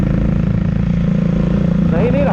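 Motorcycle riding along a mountain road from Manali toward Jispa, a loud, steady engine drone up close with a rumbling low end, joined by a short burst of talk near the end.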